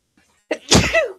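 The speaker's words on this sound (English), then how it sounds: "I have to sneeze now" A single sneeze caused by pepper, sharp and close, with a short intake of breath before the explosive burst.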